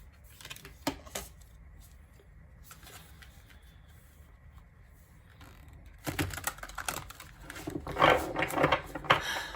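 Soft papery riffling and shuffling of tarot cards, quiet at first then a louder, busier burst of shuffling near the end, no talking.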